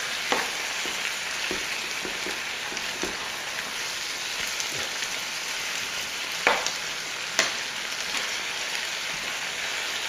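Curry with fish pieces cooking in a pot, with a loud, steady sizzling bubble throughout and occasional clicks and scrapes of stirring, with no voices.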